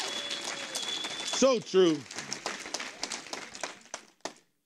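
A church congregation breaks into scattered clapping after a loud spoken phrase from a man, and the claps come through as uneven sharp bursts that thin out and stop.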